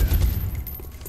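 Covering fire from a squad in the turn-based strategy game XCOM: Enemy Within, a quick burst of muffled gunshots with deep booms fading into scattered softer cracks over about a second.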